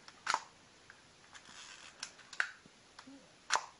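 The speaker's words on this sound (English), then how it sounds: "This is a rolling curtain shutter, same as a lot of older cameras." Zorki 4K vintage rangefinder camera firing its rolling curtain shutter: three sharp mechanical clicks spaced about a second apart, close and crisp against a quiet room with faint handling noises between.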